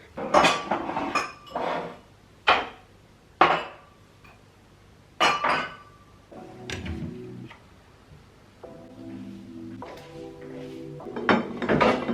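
Washed dishes being handled at home: a series of sharp clinks and clatters of plates, pots and cutlery, some ringing briefly, close and fairly loud with short pauses between.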